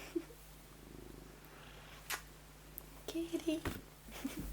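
A pet cat purrs softly in a quiet bedroom, a low steady rumble close to the mic, while a person speaks quietly in short bursts over it.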